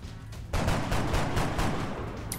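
A loud gunfire burst in the XCOM: Enemy Within video game, a rapid series of sharp reports starting abruptly and continuing for nearly two seconds.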